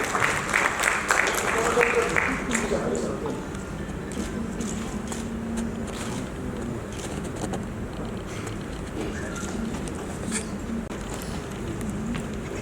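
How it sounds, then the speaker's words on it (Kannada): An audience applauds at the success meet for the Kannada film Yajamana, with loud, dense clapping at the start that fades to scattered claps and a lingering crowd murmur in a hall. "ಒಂದು ಚಪ್ಪಾಳೆ ಕೊಡಿ"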